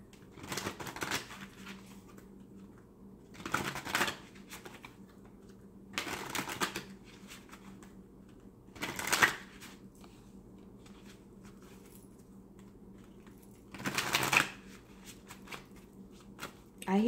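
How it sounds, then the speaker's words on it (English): Oracle cards from Judith Orloff's Surrender deck being shuffled by hand: several short, soft papery bursts of riffling cards, spaced a few seconds apart, close and quiet over faint room noise. "I'm going to draw 2 cards from my Surrender deck"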